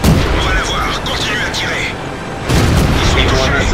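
A KV-1 tank's large derp gun fires in World of Tanks, a loud booming blast amid constant battle noise, with a second heavy burst following shortly after.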